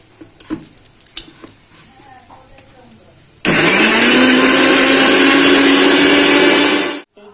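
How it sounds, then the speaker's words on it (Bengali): A kitchen mixer grinder blends tomato for a spice paste. Soft knocks and handling come first, then the motor kicks in suddenly, roaring loud and steady for about three and a half seconds before cutting out. "এবার আমি মিক্সিতে বেটে নেব"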